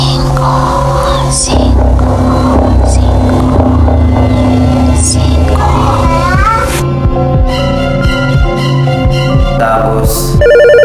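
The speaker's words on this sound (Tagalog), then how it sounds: "ngayon may tumunog sa cellphone ko" A cellphone ringtone chimes in bright repeating tones over a humming background, loud and close, with some speech-like sounds mixed in.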